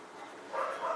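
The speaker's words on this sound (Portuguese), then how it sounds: "E a Luna latindo pra variar" A pet dog named Luna barks somewhere in a home, muffled and moderately distant, in a short one-second burst over a broad noisy background with no clear speech.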